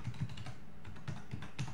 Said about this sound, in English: And now we type the most important command called